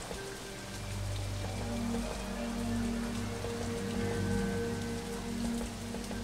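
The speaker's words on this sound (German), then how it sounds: "abgesehen davon, dass es hier immer noch regnet wie Axt" Steady heavy rain pours down in a horror video game set in a train station waiting hall, a dense even hiss of drops on surfaces with a low ambient drone beneath and no voices.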